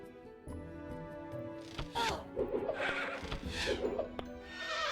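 A horse neighs and whinnies twice in The Battle for Wesnoth, a turn-based strategy game, with faint clip-clop hooves over a steady game music bed.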